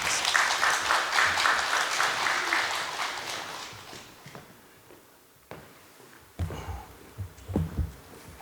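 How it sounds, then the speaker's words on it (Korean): A church congregation at a Holy Week dawn prayer service applauds to welcome the pastor, a dense clapping that fills the first few seconds and then fades, followed by scattered quieter knocks and stirring. "우리 박수로 우리 장 목사님 맞이하겠습니다"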